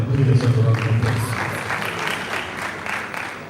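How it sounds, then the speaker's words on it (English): Audience applause at the Royal Africa Youth Leadership Forum awards in Ile-Ife, Osun State, starting after a low voice at the opening and continuing as steady clapping through the whole stretch, fairly loud and then gently tapering. "Please welcome yourself by giving yourself a round of applause."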